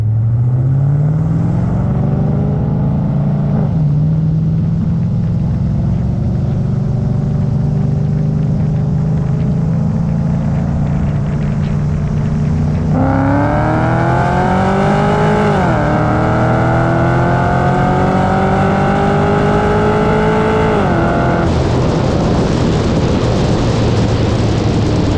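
A 650 whp supercharged Cadillac CTS-V roll races, its engine roaring loudly from inside the cabin, climbing in pitch through several gears with brief dips at each shift, plus supercharger whine and wind noise.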